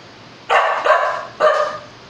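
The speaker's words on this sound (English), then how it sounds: "this is my dog." A dog gives three sharp barks in quick succession, close to the microphone and fairly loud, with a short pause before the third bark.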